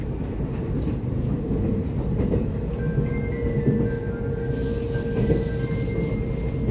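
An EMU891/892 second-generation commuter EMU runs along Taiwan's Yilan line, a steady rumbling roll of wheels on rail with faint high squeals, continuous and close throughout, no voices.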